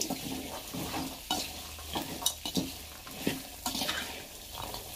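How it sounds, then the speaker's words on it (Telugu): Boiled chickpeas fry and get stirred in a pan for a festival prasadam, giving a steady soft sizzle with scraping stir strokes and light clatters at regular intervals, fairly quiet and close. "ఇప్పుడు ఉడికించుకున్నటువంటి శనగలను ఇందులోకి వేసుకొని ఫ్రై చేసుకోవాలి"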